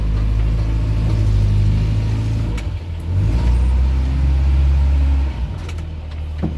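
A Suzuki Carry engine idles and strains steadily as the clutch is let out slowly. The low, loud motor hum is close and continuous, with slight shifts in pitch and no talking.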